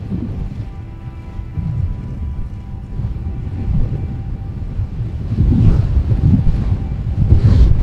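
Wind buffets the microphone while riding outdoors, a loud steady rumble that swells and gusts harder toward the end, with no talk.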